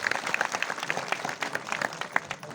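Applause from a seated audience at a gathering, honouring journalists: steady, dense clapping from many hands close by that carries on without a break.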